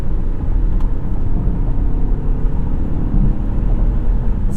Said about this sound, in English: Let's get up to highway speed here, get our adaptive cruise control set